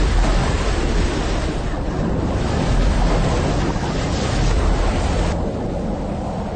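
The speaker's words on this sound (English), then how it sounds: "It is the sound of rushing water." Dense, continuous roar of rushing water, loud and close, with wind-like hiss and low turbulent rumble holding steady throughout with no pauses.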